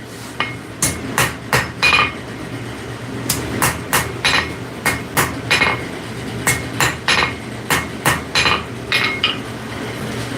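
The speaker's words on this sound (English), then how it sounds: "So I'll be forging steak flippers like a son of a gun for a while." A hammer striking hot steel on an anvil while forging steak flippers, sharp ringing blows in quick groups with short pauses between, loud and close, no voices.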